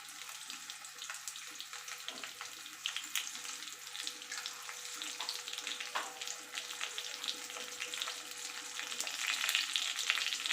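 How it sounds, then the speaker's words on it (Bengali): Jujubes (kul) cook in a pan for pickle, giving a continuous close sizzle and frying crackle that grows slightly louder toward the end, with no talk. "5 থেকে 7 মিনিট মতো কুলটাকে রান্না করে নেব"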